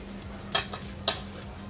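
A spoon clinks twice against a metal bowl while dried coconut is stirred into a sweet powder mixture for kajjikayalu, faint and close with soft scraping between the taps.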